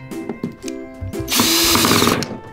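A power drill gives a few short buzzing bursts, then revs into a loud, continuous whirring run, close up.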